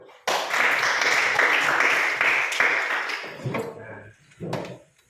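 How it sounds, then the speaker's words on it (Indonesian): Students clapping in an Indonesian classroom, a burst of dense applause that starts abruptly, holds for about three seconds and then thins out, followed by a few brief voices. "Beri tepuk tangan dulu."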